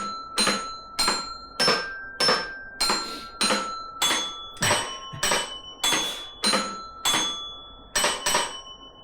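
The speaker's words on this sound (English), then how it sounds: "Jingle bells. That should come from a Christmas tree." A musical Christmas tree toy chimes out Jingle Bells in bright, bell-like metallic tones, about a dozen evenly spaced struck notes each ringing and fading before the next, slightly out of tune.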